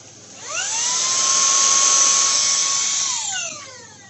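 A vacuum cleaner motor spins up with a rising whine, holds a loud, steady high-pitched drone for about two and a half seconds, then winds down as the pitch falls away.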